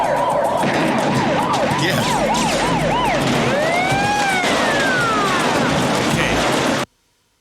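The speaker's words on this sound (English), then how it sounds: "I swear I hear like ambulance sirens" A wailing siren from the action movie Above the Law rises and falls in repeated swoops, then shifts to longer sweeping tones, loud and close amid a busy street scene, with a brief spoken word before the sound cuts off abruptly.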